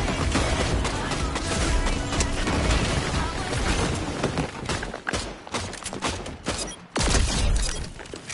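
Dense, loud bursts of gunfire in the Fortnite video game, with shots packed together in rapid volleys that barely let up, voices talking underneath.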